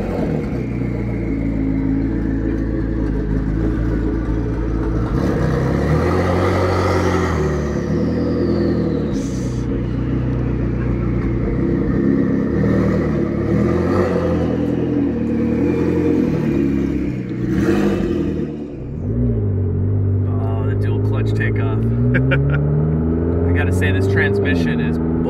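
A used, high-mileage, broken McLaren supercar drives on the road, its engine droning and rising and falling through revs close by. The engine note continues steadily for the whole stretch with a brief dip near the end.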